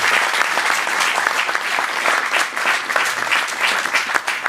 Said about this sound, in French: Encore des applaudissements pour lui.